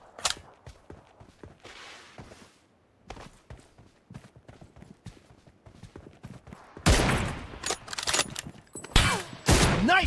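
PUBG team deathmatch gunfire from an M24 sniper rifle mixed with game effects, starting as scattered quieter shots and clicks, then growing into louder, denser cracks and bursts in the second half, without speech.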